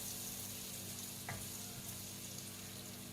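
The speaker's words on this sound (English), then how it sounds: "So let the garlic cook first." Garlic sizzling steadily in hot oil in a pan for Malaysian-style instant noodle aglio olio, a constant close frying hiss with one faint clink partway through.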